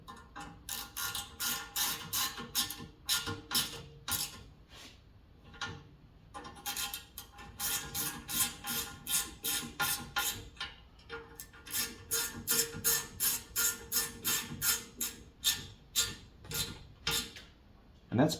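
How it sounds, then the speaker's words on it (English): Tightening the clamp collar on a billet 44mm motor plate from Stooge Raceboards, heard as a steady run of close, quiet ratcheting clicks in rhythmic bursts with short pauses between. "is tightening down the clamp collar."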